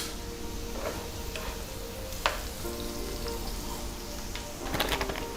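Finely chopped onion frying in a hot pan keeps up a steady close sizzle with scattered pops and a few sharp clicks of stirring.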